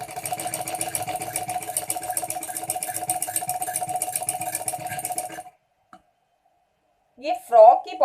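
A sewing machine stitches along the folded placket edge of a frock, running with a steady rapid buzz for about five seconds before stopping, followed by a short burst of voice.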